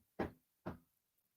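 Two sharp knocks on a door, struck as a hint in a guessing game, spaced about half a second apart and heard alone with no talk.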